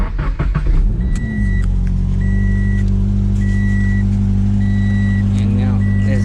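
A 2018 Subaru BRZ tS engine cranks briefly and catches, then settles into a steady, fairly loud idle while an electronic chime repeats in the cabin.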